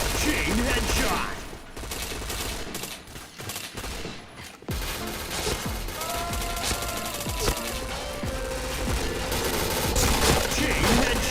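Rapid bursts of automatic gunfire ring out in the online shooter Point Blank, loud and dense rattles with brief pauses and metallic mechanism clicks, layered with game effects.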